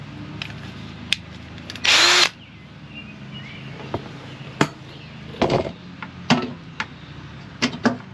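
A power drill bores two holes while a Bal hide-a-spare carrier is installed on a vehicle, a loud high whine lasting under a second, followed by sparse knocks, taps and handling clatter.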